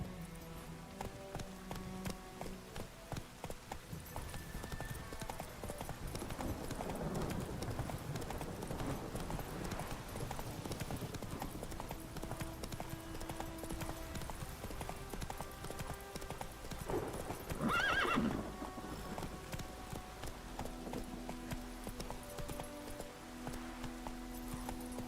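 Steady, rapid hoofbeats of a horse galloping in The Witcher 3, a continuous clip-clop rhythm running the whole way over a low bed of in-game ambience and faint tonal music.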